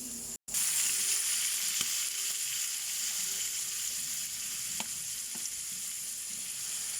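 A Bisaya dish sizzles and fries steadily in a pan, a constant hissing crackle with a few faint clinks of stirring and no talk.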